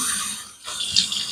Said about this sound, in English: let me cold rinse